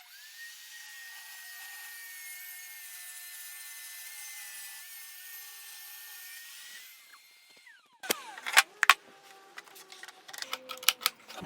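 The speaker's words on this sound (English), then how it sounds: "And now I just need to cut off that edge." A power saw cuts the edge off a wooden board clamped in a tapering jig: a steady high whine of the running blade, then it spins down and is followed by several sharp knocks and clatters of wood handling.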